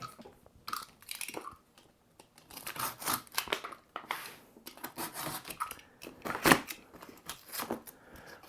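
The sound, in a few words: cutting a hole in a cardboard firework box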